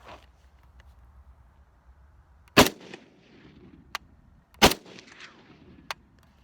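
Two sharp, loud PTR-91 rifle shots ring out a couple of seconds apart outdoors, each followed by a brief echo, with fainter clicks and handling noise between them.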